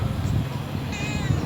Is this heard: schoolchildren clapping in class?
no